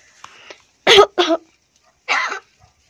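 A talking pet crow imitating a cough: a few short, raspy cough-like bursts in quick succession with a brief pause, close and clear against a quiet background, preceded by faint soft sounds.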